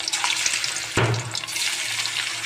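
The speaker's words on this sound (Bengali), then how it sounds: "মাছটা একদম ভেজে নিব। এখন সবগুলো মাছ একসঙ্গে দিয়ে দিব।" Rohu fish pieces dropped into hot oil, setting off a sudden loud burst of sizzling that settles into steady, close frying. There is no talk.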